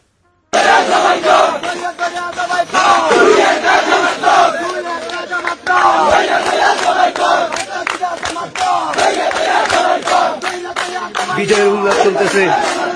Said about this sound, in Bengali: ইলেকশনে জিতে আওয়ামী লীগের স্লোগান দিতেছে